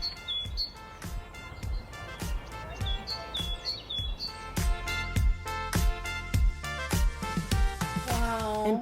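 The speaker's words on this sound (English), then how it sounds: "different types of beautiful birds, each with melodic songs to sing" Birds sing in park gardens in York, England, with bright, repeated chirps and tweets coming in quick bursts, fairly close and clear throughout, with no talking.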